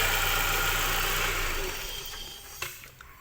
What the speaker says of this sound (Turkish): Aracımız çalışmaya devam ediyor.